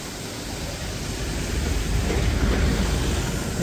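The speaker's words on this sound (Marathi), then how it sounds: "इथं छोटासा वॉटरफॉल आहे समोर." A small waterfall rushing steadily in a misty hill-station ghat at Matheran, a dense continuous roar that swells slightly louder midway and carries no voices.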